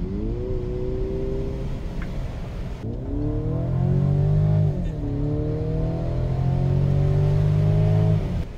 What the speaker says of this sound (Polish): Tryb sport i słychać dosłownie brzmienie V8 z głośników.